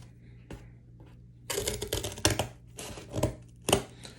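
Scissors cut through a piece of cardboard in a string of crisp snips and crunches, sparse at first and then closer together, close by and fairly loud over a faint steady hum, with no talking.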